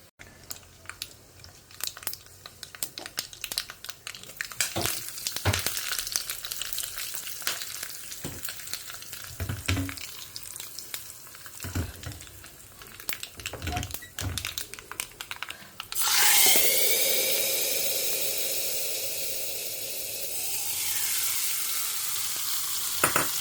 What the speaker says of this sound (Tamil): கொஞ்சம் பொரியட்டும். அதுக்கப்புறமா வத்த மிளகாயும் கருவேப்பிலையும் 2 பெருங்காயம் மேலே அப்படி வாசனைக்கு.